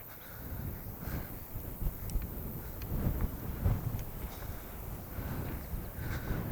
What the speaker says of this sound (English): God damn, it's windy.